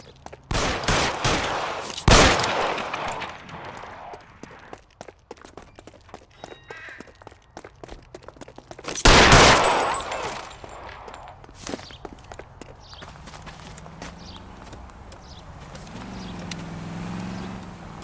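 Gunfire in L.A. Noire, a few sharp, loud shots with two heavy bursts standing out, mixed with footsteps and scuffling, then quieter movement and a brief voice near the end.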